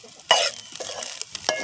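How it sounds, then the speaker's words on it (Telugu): Food is stirred in a cooking pan, with a few close scraping strokes and soft rustling bursts spaced across a short moment, no voices. "కలుపుకోవాలి."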